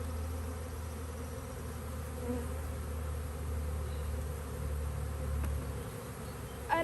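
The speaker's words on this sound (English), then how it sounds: "I see a ton of bees." Honey bees buzz steadily around a frame lifted from a nuc beehive, a dense continuous hum held close throughout, with a brief spoken word near the end.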